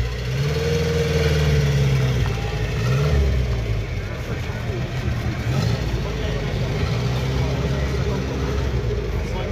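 A Citroën C3 phase 2 with the 1600 petrol engine, the most powerful of its range, running and revving at a car meet, a steady loud mid-pitched engine drone with rising and falling revs while people talk nearby.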